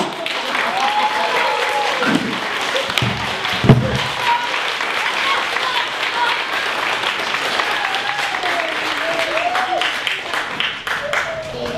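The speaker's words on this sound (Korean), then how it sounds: "무엇이 좋다고 이렇게 박수를 치면서 좋아들 하시는지" An audience at a Korean folk ritual performance breaks into sustained applause, a steady wash of clapping under a performer's voice, with a few louder thumps along the way.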